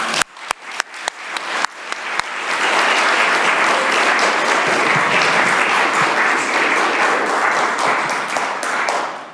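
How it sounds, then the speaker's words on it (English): Audience applause for a solo performer at a fall performing arts showcase of one-person shows, starting with a few scattered claps and swelling into steady, dense, loud clapping that fills the room. "let's give him a round of applause"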